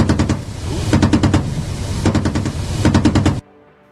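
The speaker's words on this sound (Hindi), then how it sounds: "रूस का लड़ाकू हेलीकॉप्टर इसी तरह वहां रुक रुक कर गोलियां बरसाता रहा" Rapid bursts of heavy machine gun fire from a Russian combat helicopter in Ukraine, three long volleys separated by brief pauses, loud and close, ending abruptly.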